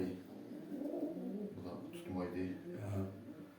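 Soft, low pigeon coos repeat faintly at close range, with quiet murmuring voices in the background.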